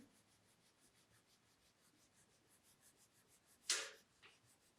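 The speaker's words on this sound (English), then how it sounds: "I'm using the 6B pencil" Soft graphite rubbing of a 6B pencil shading a pressure-scale gradient on paper, a faint repetitive scratchy stroke pattern close by, ending in one louder brief scrape.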